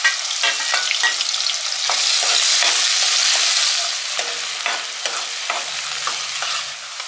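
Chopped onions and green chilli fry in a pan, loud continuous sizzling broken by repeated sharp scrapes and clacks of a spatula stirring, close up with no voices.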